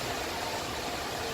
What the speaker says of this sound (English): the noise you hear behind us now is traffic on the Bronx River Parkway